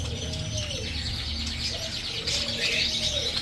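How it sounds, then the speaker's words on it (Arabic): Collared doves coo softly amid a bustling bird market in Baghdad. Low repeated coos sit under constant chirping and background crowd noise. "حمام قمري."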